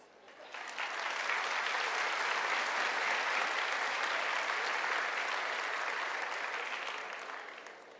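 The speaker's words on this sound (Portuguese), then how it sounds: "Gostaria que vocês se aplaudissem." Applause from a lecture audience at a motivational talk on anxiety and depression swells in within a second, holds as dense, sustained clapping from a large crowd for several seconds, then tapers off.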